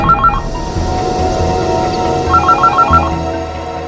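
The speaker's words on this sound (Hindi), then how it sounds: "ये किसका फोन आ गया?" A phone rings with a chirpy electronic tone in two bursts of rapid repeated beeps, one at the start and a longer one later, heard over a low background hum indoors.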